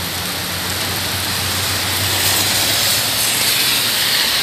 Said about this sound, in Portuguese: Chuva agora bem forte em Maringá